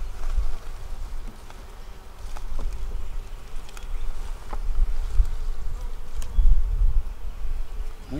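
Honeybees buzz in a steady, dense drone while two beehives are combined into one, with a swarm of insects humming close by and faint clicks of hive frames underneath.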